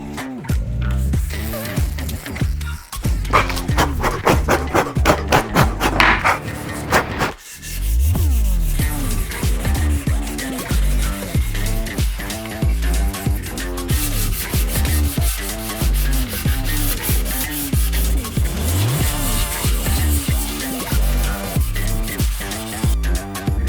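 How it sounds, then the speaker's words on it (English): 800-grit wet sandpaper rubs back and forth against bike frame parts in a steady rhythmic rasp, close and continuous, with occasional brief pauses. "put some 800 grit wet sanding paper into the boiling hot water to sand all the parts"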